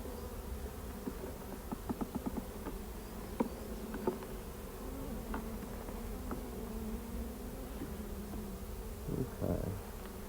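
Honeybees hum from an opened hive, a low steady buzz with scattered individual bees droning close past, fairly quiet and without talk.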